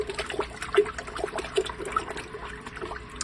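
Spoon stirring pH down solution into water for plant feeding in a grow tent, soft watery swishing and light scattered clinks repeating close by at a low level.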